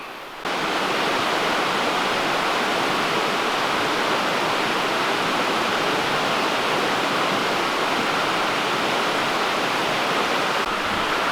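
Steady, full-bodied rush of Cataloochee Creek flowing beneath a bridge, loud and continuous throughout with no voices.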